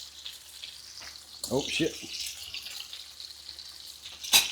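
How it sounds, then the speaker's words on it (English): Food frying in hot bacon grease, a soft crackling sizzle with sharp spattering bursts near the middle and end, and a man swears briefly. "That bacon grease is hot."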